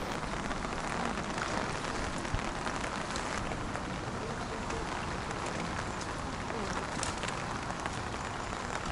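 Steady rain pattering on a pond surface during a rainy-day float fishing session for crucian carp, a dense, even hiss of drops lasting throughout with no talk.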